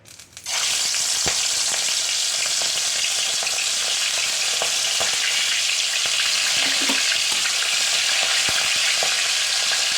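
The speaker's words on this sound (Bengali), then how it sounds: "এবার মাছগুলোকে আমি ভেজে নেবো একটা একটা করে।" Prawns dropped into hot mustard oil for a Bengali malai curry, an instant loud burst into a dense, steady spitting sizzle with occasional stirring knocks, close and unbroken.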